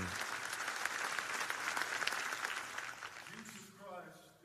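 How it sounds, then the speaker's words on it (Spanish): A congregation claps in worship during a Spanish-language sermon, with dense, steady applause for about three seconds before it fades and a voice begins speaking. "denle un aplauso de adoración al Señor"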